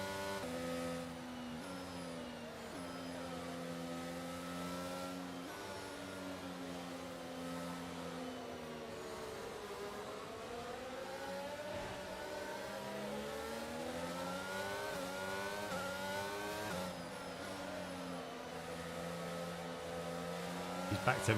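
Race car engines in the F1 2022 video game hum steadily at the Saudi Arabia Grand Prix while the field runs behind the safety car, their pitch rising and falling gently with a faint voice in places.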